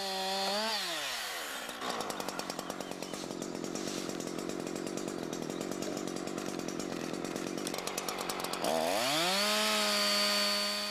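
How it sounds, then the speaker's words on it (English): A chainsaw revs up and then bites through a tree trunk, with a loud, close, steady cutting drone lasting several seconds before the engine rises again as the chain runs free. "Start by sawing from underneath about one-third of the way through the trunk or until it starts to pinch the bar."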